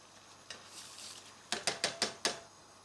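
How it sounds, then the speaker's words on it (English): Tilda rice tipped into a pan of boiling water, a soft rattling pour followed by a quick run of five sharp clinking taps against the pan, faint and close. "now I have a pan of boiling water. And all you need to do is pop your rice straight in."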